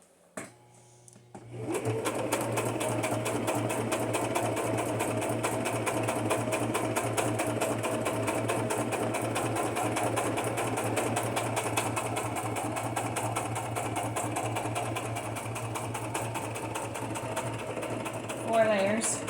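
A sewing machine with its presser foot down stitches through a layered cardstock journal cover, a fast, even mechanical whir of needle strokes that starts after a brief pause, runs continuously and then winds down at the end.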